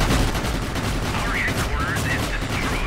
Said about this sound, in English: Pew pew pew, shooting them bullets.